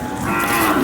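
A cow moos loudly and close at a cattle and bullock market in Sangola, one sustained low bellow lasting under a second with no talk over it.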